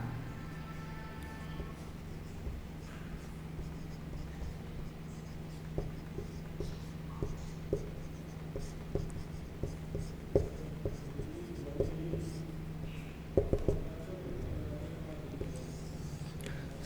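Pen scratching steadily on a board or paper during a Class 10 Hindi science lesson on oxidation and reduction, a run of small ticks and strokes over a constant low hum, with no talking.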